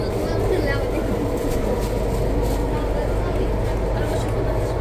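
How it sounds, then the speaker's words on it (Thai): Steady low rumble of a Sydney Metro subway train running, a dense continuous roar with faint hiss on top and no clear breaks. "รถไฟใต้ดิน"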